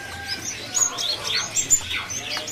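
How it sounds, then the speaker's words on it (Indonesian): A hill pelanduk bird calls in a bird shop kiosk, a run of bright, thin chirps and short whistles repeating close by over faint background noise. "Ini ada burung pelanduk bukit."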